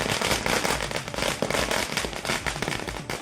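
Firecrackers go off at a village celebration in Thandalam, a dense, rapid string of loud crackling bursts popping continuously without pause.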